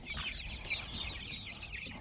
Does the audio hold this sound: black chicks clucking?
yes